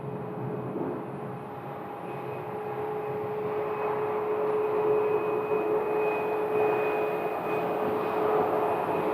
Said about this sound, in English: our Long Beach flight is going to taxi right behind them